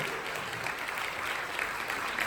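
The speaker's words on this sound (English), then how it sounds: "Give Khalif a huge round of applause," An audience claps steadily and evenly for a speaker at a business talk, applause filling the whole stretch without any voices over it.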